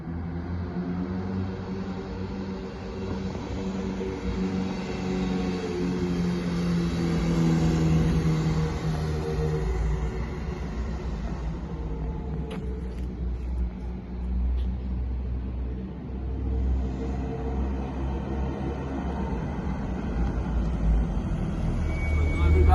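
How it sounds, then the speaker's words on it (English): Engine of a 1984 Ferrari Mondial QV, European spec, droning steadily from inside the car on a drive, with low harmonic hum rising and falling as it revs and pulls, loud and continuous throughout. "Now the engine is a bit warmer, so we can try to push a bit more so you can see how the car goes."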